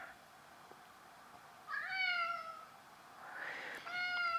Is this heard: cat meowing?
yes